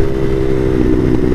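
Bashan Motomax 250 motorcycle fitted with a Nibbi PE30mm carburetor, its engine running loud and close with a steady mid-pitched drone through a short stretch of riding.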